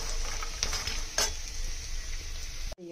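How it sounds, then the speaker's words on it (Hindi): Makhana (fox nuts) fry in ghee with salt, a steady close sizzle with occasional stirring scrapes and clinks against the pan, ending in a brief cut-off. "थोड़े से घी डाल के और नमक डाल के इसको फ्राई कर दें।"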